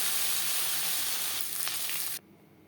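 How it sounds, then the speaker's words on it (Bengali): Bhetki fish frying in oil, a loud, dense, continuous sizzle close by that cuts off abruptly near the end, leaving quiet. "পরের মাছ একইভাবে ভেজে দেব।"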